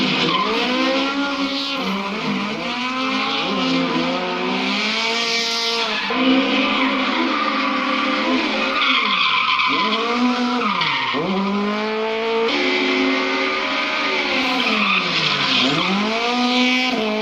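A red Toyota Trueno drifting with a loud, continuous engine howl that rises and dips through revs, tires squealing and skidding throughout, close and sustained with no talk.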